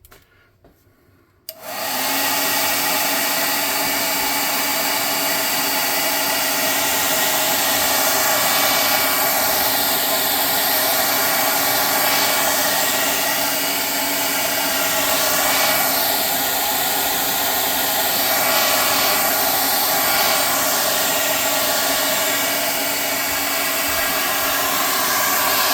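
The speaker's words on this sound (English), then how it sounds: "We're going to hit them with a +5 hot air gun of burning." A +5 hot air gun blows over foam terrain for tabletop canyons, a steady loud roaring whoosh that starts abruptly and runs continuously, with slight rises and dips in pitch.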